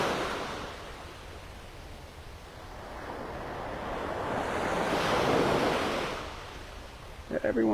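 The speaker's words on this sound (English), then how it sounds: "Every once in a while we get a series of waves that are just a little bit bigger, then it calms down" Ocean waves wash onto the beach at Pelican Bay in North Naples, Florida, a steady broad surf that swells louder in the middle and then eases, with wind rumbling on the microphone and no talking.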